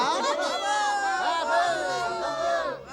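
A cartoon crowd of Smurfs cheers and acclaims a musician Smurf, a dense overlapping swell of many excited high voices shouting together, loud and continuous throughout with no clear pause.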